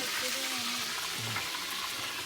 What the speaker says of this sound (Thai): จืนปลาทอดปลา